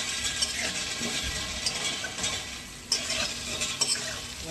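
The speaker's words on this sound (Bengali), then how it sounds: "এবার মাথাগুলোকে নেড়ে নেব, আলুগুলো সবই" Fish heads and potatoes frying over a high flame are stirred in a pan, making a loud continuous sizzle with scraping and clacking from the spatula, up close and without speech.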